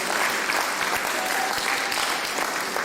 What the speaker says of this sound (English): I'd like to clap it up for them also.